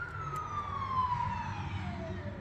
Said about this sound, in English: I'll just wait for this ambulance to go past.